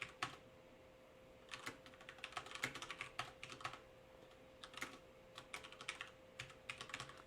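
Rapid, irregular keystrokes on a computer keyboard as code is typed, coming in uneven bursts and pauses, fairly close and quiet over a steady electrical hum.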